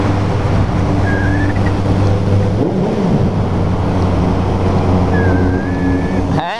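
Motorcycle with a loud popping exhaust rumbling through a dark tunnel, a heavy low engine drone dominating with a brief dip and a couple of whistling tones over it, echoing close by.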